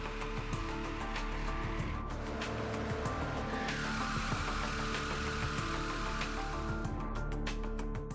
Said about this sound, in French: Sur cette machine, nous reproduisons des contraintes qui excèdent ce qui se passe sur piste.